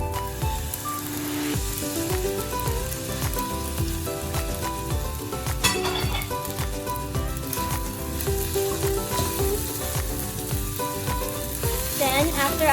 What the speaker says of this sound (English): After the sauce, we will now add in the shrimp that we had set aside.